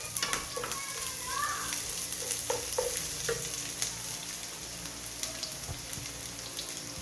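Onions frying in a pan over a flame for an egg omelette, a steady crackling sizzle with occasional clinks of a spatula stirring, fairly close and continuous with no talk.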